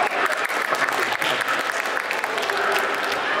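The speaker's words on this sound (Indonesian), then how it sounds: "tepuk tangan buat Pak" Steady applause from a crowd, loud and continuous throughout, with no pauses.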